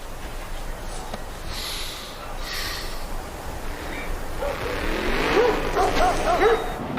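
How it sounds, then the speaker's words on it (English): A farm dog barks in a video game scene, a few short yips and barks rising near the end over a steady ambient rumble, moderately close but not loud. "There's a freaking dog barking in the background."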